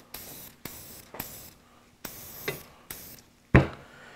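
Short hissing bursts of solvent spray on a shotgun, about six in a row with brief pauses, close by and followed by a sharper clack at the end.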